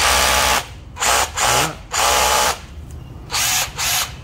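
A used Japanese cordless drill runs in hammer mode in short, loud bursts, starting and stopping about six times in a rough rhythm with brief gaps between them, close up and with no one talking.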